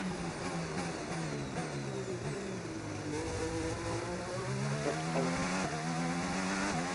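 A Formula 1 race car engine in a racing video game, revving continuously with rising and falling tones as gears shift under acceleration, steady and close throughout with no talking.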